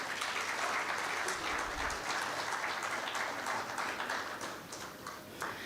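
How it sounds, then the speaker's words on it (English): Audience applause at an anti-money laundering and financial crime conference as a speaker is invited on stage, a dense, steady wash of many hands clapping that fills the whole stretch at a constant level. "Please give him a round of applause"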